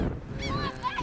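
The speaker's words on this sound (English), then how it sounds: "Look at all the seagulls." Seagulls call nearby with a few short, honking, nasal cries over wind noise at the shore.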